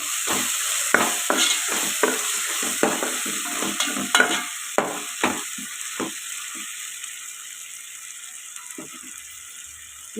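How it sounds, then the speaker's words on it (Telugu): Tomatoes and green chilies frying in a pan for egg curry: a sizzling hiss broken by repeated sharp scraping stirs, loud and close at first, then easing off into a quieter fry with no talking. "ఇలా టమాటా మగ్గుతుంది కదండి, కట్ చేసి పెట్టుకున్న పచ్చిమిర్చి కూడా వేసిద్దాం."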